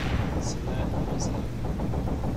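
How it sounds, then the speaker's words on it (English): Missiles in the space combat game Angels Fall First, heard as a dense, rumbling roar of launches and blasts with a couple of brief high chirps, loud and continuous throughout. "those are missiles"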